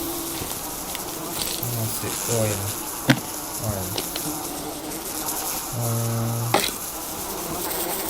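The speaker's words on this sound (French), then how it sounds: "c'est horrible le bruit des abeilles" Bees buzzing in Sons of the Forest, a loud droning hum that swells and fades in repeated bursts, with someone talking briefly over it.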